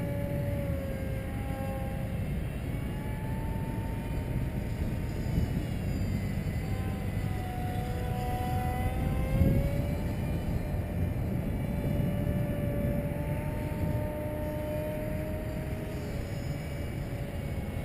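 Foam Su-37 profile RC model jet on its maiden flight, its propeller droning and whining steadily throughout, pitch wavering up and down as the plane passes, with constant wind-like noise underneath.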